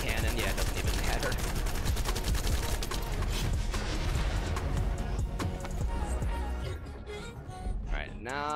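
A cannon fires during a boss fight in the video game The First Descendant, dense booming blasts layered with rapid gunfire and explosions, loud and continuous before easing slightly near the end, with players talking over the action.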